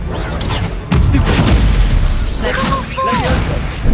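Confringo fire spell in Hogwarts Legacy goes off as a loud, close booming blast with crackling bursts, followed by brief magical whooshing tones.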